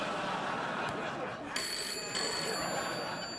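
A telephone ringing on a late-night talk show, a steady electronic ring tone set under a loud, noisy studio background.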